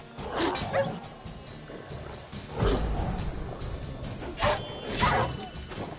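A wild dog in The Witcher 3 lets out several snarling barks and growls in separate bursts over a rumbling game background, close and fairly strong.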